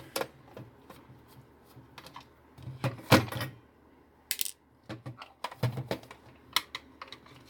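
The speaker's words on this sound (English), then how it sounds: "we'll get in here and get these screws out" A screwdriver works screws loose from an old Axlon Compurobot toy robot, with sparse close clicks, scrapes and small knocks of metal and plastic scattered irregularly through quiet gaps.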